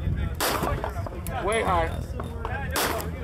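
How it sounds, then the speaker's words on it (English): Rifle shots ring out at a shooting range, a few loud, sharp cracks spaced apart, with someone talking between them. "Am I shooting low, left?"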